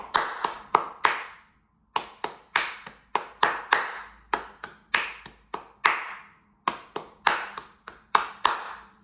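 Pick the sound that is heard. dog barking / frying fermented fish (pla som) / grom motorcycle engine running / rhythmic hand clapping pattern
rhythmic hand clapping pattern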